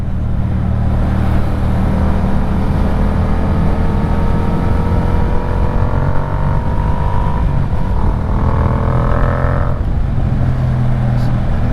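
A Yamaha MT-07 motorcycle fitted with a Yoshimura exhaust drones steadily up close, its pitch climbing as the engine revs harder toward the end before easing off.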